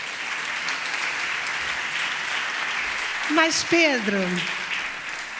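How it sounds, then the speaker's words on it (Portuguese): Audience applause at a corporate people-management conference as a speaker is welcomed, steady clapping with a brief spoken name breaking through in the middle. "Uma salva de palmas para o Pedro."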